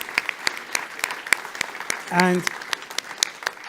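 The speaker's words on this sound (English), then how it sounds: "So please give them a round of applause." Scattered, sparse clapping from a small audience at an EU influencer event, individual claps spaced out over a few seconds, with a brief spoken word partway through.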